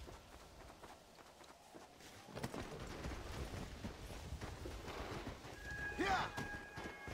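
A horse neighs and its hooves clop in the video game Red Dead Redemption: Undead Nightmare, hoofbeats building from faint to louder before a clear whinny near the end.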